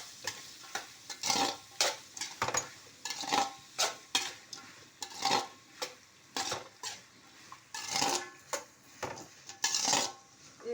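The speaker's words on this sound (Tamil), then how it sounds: "இப்போ வெங்காயம் நல்லா வதங்கிக்கிட்டு இருக்கு" Onions sautéing in oil in a pan while being stirred for a mocchai dish, with repeated metallic scrapes and clinks of a spoon against the pan over a faint sizzle.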